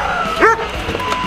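A dog gives a single short, close bark partway through, standing alone against quiet room sound.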